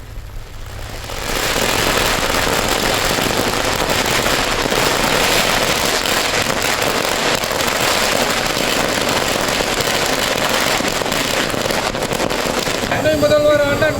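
Firecrackers burst in a dense, continuous crackling barrage at an outdoor DMK political celebration for newly sworn-in ministers, loud and sustained throughout with faint crowd noise beneath.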